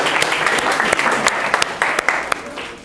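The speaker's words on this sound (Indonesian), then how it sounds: "Kita kasih aplaus." Students in a high school geography classroom break into brisk applause, a dense patter of many hands clapping close by at a steady pace for a few seconds.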